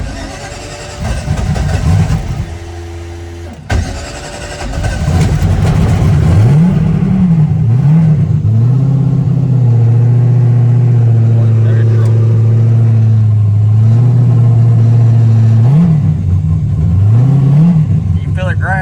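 A race car engine cranks and fires up, then settles into a loud, close, throbbing idle broken by several rising revs and drops, with a voice talking briefly over it.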